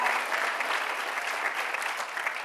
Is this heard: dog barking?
no